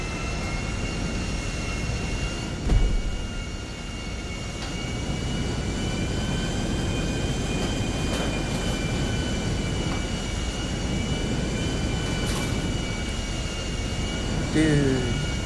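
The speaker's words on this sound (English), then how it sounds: "this plane" A plane's engine drones steadily in flight in GTA V Online, a constant jet-like roar lasting throughout with a brief bump in loudness early on.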